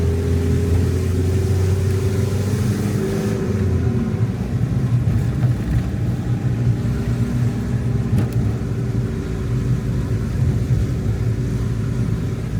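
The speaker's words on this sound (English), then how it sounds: "Oh, this car is really groaning inside." A small diesel car with a manual clutch labours uphill while towing a tiny camper, its engine holding a low, steady groaning drone with rumbling undertones that shift partway through, heard from inside the cabin with no talk.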